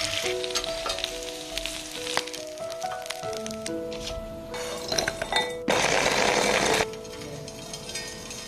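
Crab pan-frying in hot oil, a steady crackling sizzle with light clinks and scrapes of a utensil against the pan, rising into a louder, denser hiss for a second before easing back.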